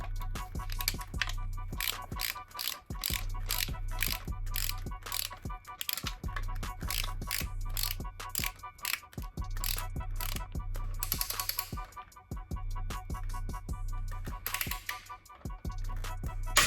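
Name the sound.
torque wrench ratcheting while tightening clutch bolts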